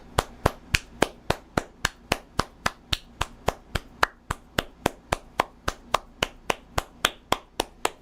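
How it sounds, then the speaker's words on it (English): Rapid, perfectly steady claps ring out alone, about three per second for the whole stretch, loud and close, forming a standing-ovation round in a commemorative video. "Standing ovation."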